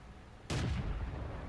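A tank cannon fires at enemy artillery in World of Tanks, as a T1 Heavy, a single sharp, loud blast that hits suddenly and then rolls off into a booming decay, with no talking.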